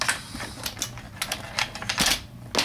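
An IBM Model F keyboard clatters as it is set down and shifted on a mat, giving a quick run of sharp, close taps and knocks.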